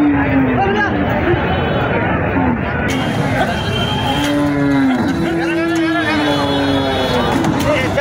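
Deshi and Sahiwal bulls for Qurbani low and moo repeatedly at the Mainamati weekly cattle market, several long, loud calls rising over a busy background of crowd babble and people talking.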